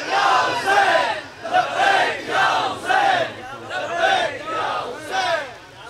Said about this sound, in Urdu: بولو لبیک یا حسین لبیک